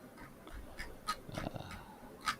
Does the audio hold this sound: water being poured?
no